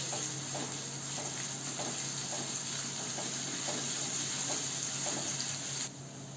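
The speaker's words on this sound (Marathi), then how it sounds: "हे सगळं परतून घेऊया." Ginger, garlic and a finely chopped green chilli sautéing in a pan for a spicy farsan bhaji, giving a steady close sizzling hiss with faint periodic stirring scrapes that drops slightly near the end.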